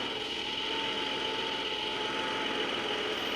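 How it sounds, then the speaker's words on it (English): A car engine running with no exhaust in Police Simulator, idling as a steady, rough mechanical drone with a harsh rattling buzz, loud and unbroken for the whole stretch, with no voices. "it sounds like it has no exhaust"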